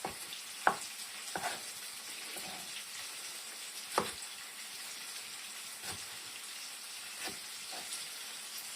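Steady sizzling and crackling of peppers frying in a pan for garlic menemen, with occasional sharp pops and clinks over the continuous hiss.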